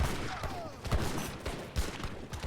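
Heavy cannons firing in a real-time strategy video game battle, a dense run of booming shots and impacts layered over constant gunfire and battle noise.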